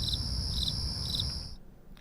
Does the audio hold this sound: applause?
no